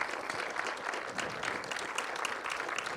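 An audience applauds Mayor Don Barnett with a steady, even roar of many hands clapping throughout, no voices rising above it.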